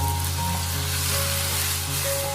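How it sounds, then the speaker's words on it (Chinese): White beech mushrooms, wood ear and carrot slices sizzle loudly in a hot wok over high heat, a dense continuous crackle and hiss with faint scraping of the stir-fry, no voices. "继续开大火快速的翻炒一下，把白玉菇和木耳、胡萝卜片融合在一起"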